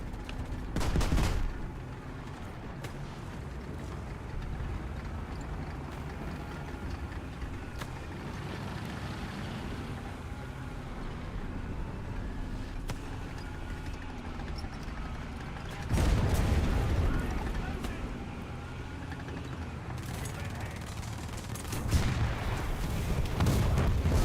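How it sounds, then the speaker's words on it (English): An artillery barrage of high explosives in the video game Junk Thunder, with heavy booming blasts near the start and again later over a constant rumbling battlefield and engine din, no talking. "who the heck is shooting high explosives? Artillery barrage in your sector."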